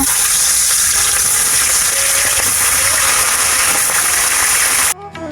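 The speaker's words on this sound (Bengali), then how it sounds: "এবার এই মাছ ভেজে নেবো" Fish coated in salt and turmeric fry in hot oil in a wok, a loud, close, unbroken roar of sizzling that stops abruptly just before the end.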